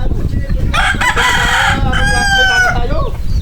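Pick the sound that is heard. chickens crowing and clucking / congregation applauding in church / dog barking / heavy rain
chickens crowing and clucking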